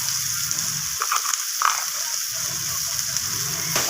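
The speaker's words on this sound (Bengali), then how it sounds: "সমস্ত কিছু মশলাকে আলুর সাথে এইভাবে নাড়াচাড়া করে একটু কষিয়ে নিচ্ছি" Potatoes and spices stir-fry in a pan while they are cooked down, making a steady loud sizzle with occasional scraping clicks from stirring throughout.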